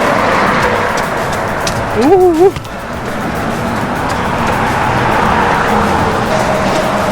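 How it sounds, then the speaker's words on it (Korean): Steady roar of road traffic with cars rushing past continuously, loud and close, at sunset near water, while a person briefly exclaims partway through. "차 소리 들려요?"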